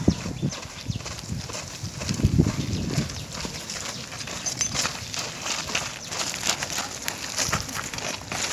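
Horses of a mounted ceremonial party walk in procession, their hooves clip-clopping steadily over a busy outdoor crowd din, with scattered voices mixed in.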